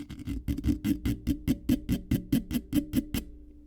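A pencil scratches paper pressed right against a microphone, a rapid, evenly spaced series of loud, buzzy strokes, about a dozen in quick rhythm before stopping abruptly.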